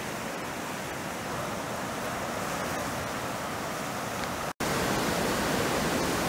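A river rushing past near Livermore Falls on the Androscoggin, producing a dense, steady roar of flowing water with no voices, briefly cut by a sharp dropout.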